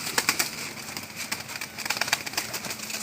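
Pigeons being fed and handed over by a young fancier, cooing and fluttering nearby in a soft, busy cluster of short calls and wing flaps, fairly quiet throughout.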